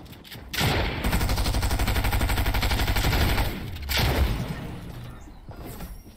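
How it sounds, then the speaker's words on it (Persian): Shotgun fire in the video game Fortnite: a rapid run of loud, punchy shots, then another sharp blast after a brief pause, fading into quieter game sounds. "اوکی یه شاتگان خوب زدم"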